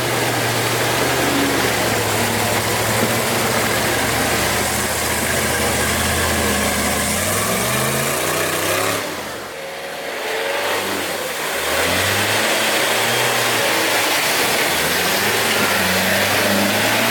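An off-road vehicle engine labors steadily while driving through deep mud tracks, its loud, close drone rising and falling in pitch, dipping briefly in the middle before revving back up.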